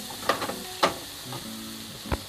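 Onion and tomatoes cooking in a pan for a Punjabi-style aloo gobi, a soft sizzle marked by a few sharp scrapes and clinks of stirring, fairly quiet and with no voices.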